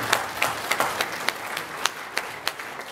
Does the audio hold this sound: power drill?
no